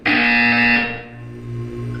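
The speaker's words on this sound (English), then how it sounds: "You will hear a buzzer." A loud electronic buzzer from the video game Portal 2 sounds once, a harsh tone that holds for under a second and then fades into a low background hum.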